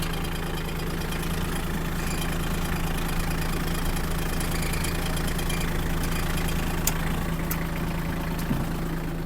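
A Japanese Iseki TG-27 mini tractor sits parked with its brake set, its small engine idling in a steady, even low hum with a faint mechanical clatter, close and continuous for about nine seconds with no talking.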